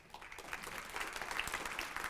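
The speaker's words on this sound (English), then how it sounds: "Everybody, please give her another round of applause." Faint, steady audience applause at a human rights awards ceremony, a continuous wash of many hands clapping throughout the short stretch.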